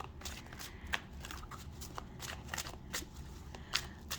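A deck of tarot cards is shuffled close by, giving a steady riffling rustle with crisp snapping flicks of card edges at irregular moments.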